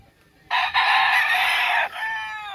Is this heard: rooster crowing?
yes